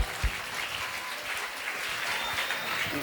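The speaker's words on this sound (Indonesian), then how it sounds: "Beri tepuk tangan sekali lagi." Brief burst of audience applause at an Islamic boarding school graduation event, a steady crowd patter of clapping hands that continues evenly for a few seconds.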